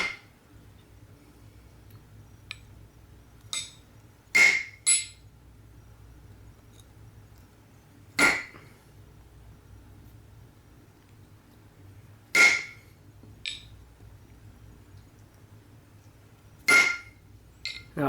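Metal tabs on a moving dolly wheel are tapped with a wrench during a repair. The clinks come as sharp, bright, isolated strikes spaced a few seconds apart, sometimes doubled, over a quiet room hum.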